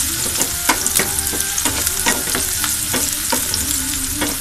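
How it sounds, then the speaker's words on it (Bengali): Onions with a pinch of panch phoron frying and being stirred in a pan, loud and close, with rapid regular scraping strokes over a constant bright sizzle and no voices. "পাঁচফোড়নটা দিয়ে আবারও নেড়ে চেড়ে দিচ্ছি।"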